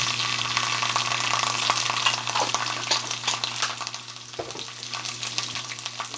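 Ginger paste sizzling in a hot frying pan, a steady, loud crackling hiss with a constant hum beneath, and no voices.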